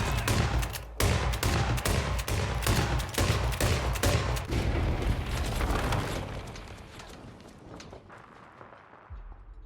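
Rapid gunfire and heavy blasts in the Hitman game, a dense volley of loud sharp shots and booming explosions that gradually fade into a rumbling, echoing tail.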